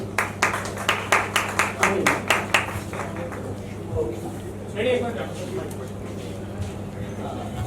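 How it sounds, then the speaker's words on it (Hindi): A live audience at a Republic Day music event claps for a music producer, a short run of sharp, fairly close claps that fades within a few seconds into a steady background hum and murmur. "इनके लिए जोरदार ताली हो जाए।"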